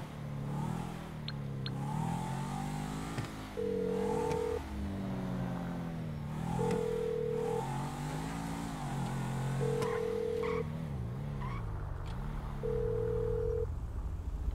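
A phone ringing in a French roleplay video game, its repeated electronic ring tone sounding in four evenly spaced bursts over steady engine rumble and game music.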